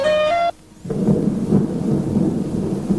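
Thunder from an electrical storm, a heavy low rumbling roll over steady rain after a brief tonal sound cuts off at the start.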